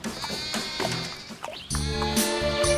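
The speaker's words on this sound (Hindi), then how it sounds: "अरे इतनी रात गए ये आवाज कहां से आ रही है? लगता है कोई बकरी फंस गई है" A cartoon goat bleats loudly at night, a run of wavering, nasal bleats with a sustained cry near the end, heard alone without talking.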